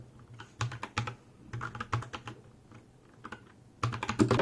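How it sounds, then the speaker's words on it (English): Typing on a Royal Kludge RK61 60% wireless mechanical keyboard: bursts of quick, close keystrokes with short pauses between runs, moderately quiet and with no voices. "The sound the keyboard makes when typing is also quite satisfying"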